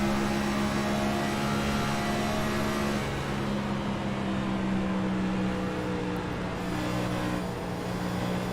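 Race car engines drone steadily from a distance as the drivers lift off the gas through the turns, a continuous hum with shifting pitch and no sharp peaks.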